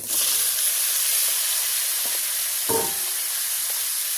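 Eggplants sizzle steadily in hot oil in a village kitchen pan, a loud continuous hiss broken by an occasional scrape of stirring.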